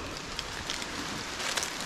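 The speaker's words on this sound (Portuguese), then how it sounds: "não estava no programa que caísse uma chuva, mas começou a chover." Rain begins falling in the jungle on an extreme trail near waterfalls in Presidente Figueiredo, a steady hiss of drops on foliage with scattered louder spatters, fairly close and free of speech.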